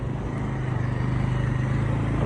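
Hero Xpulse and Pulsar motorcycles ridden on a dirt track in Nepal: a steady, close engine drone with a continuous low buzz and no pauses throughout.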